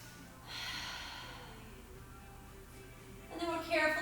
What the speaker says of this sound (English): Just taking another full breath here